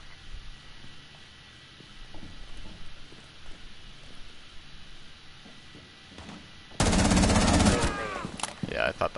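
Sustained, loud burst of machine gun fire from Tachanka in Rainbow Six Siege ranked play, erupting near the end after quieter footsteps and ambient game noise.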